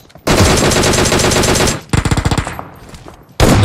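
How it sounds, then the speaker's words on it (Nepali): Automatic gunfire from a shooting video game: loud sustained bursts of rapid shots, a shorter rattling burst, then another loud volley, close and with no talk. "मेरो अटोमेटिकली फायर भइरहेछ"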